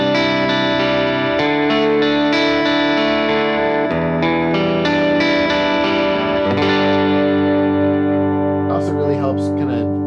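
Electric guitar through a compressor pedal on a pedalboard, strummed chords and ringing arpeggios with an even, sustained level and a wet, effected tone, played close with no talking.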